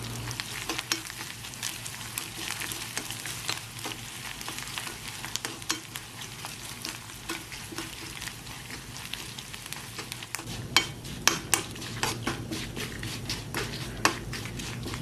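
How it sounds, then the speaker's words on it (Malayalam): Grated coconut frying in a pan while being stirred, a continuous soft sizzle with frequent scraping and tapping of a spoon against the pan, close and unaccompanied by speech. "ഇത് നന്നായിട്ടൊന്ന് ഫ്രൈ ചെയ്തെടുക്കാം."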